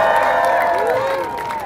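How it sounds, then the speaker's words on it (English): A street-show audience at a knife-juggling act claps and cheers together in a dense, steady burst of sound with shouts rising above it. "give him a big clap and cheer because he has done a great job"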